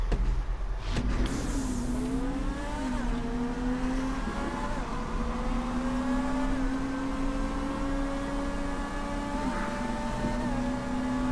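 A car in GTA 5 accelerating from a boosted start, its loud engine note climbing steadily through repeated gear-like rises over a continuous roar, alone without talk.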